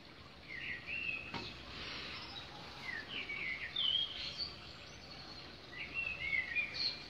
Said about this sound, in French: Oui, les oiseaux, c'est trop chou. J'aime trop entendre les oiseaux le matin avec le café